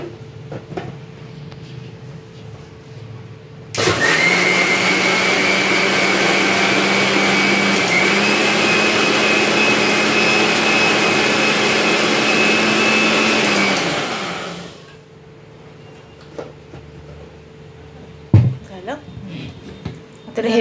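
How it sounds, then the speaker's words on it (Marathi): A mixer grinder blending buttermilk in a home kitchen runs loud and steady for about ten seconds, then winds down, with quieter household clatter and a voice before and after. "आता मिक्सरला लावूया. हे असंच मिक्सरला लावायचं."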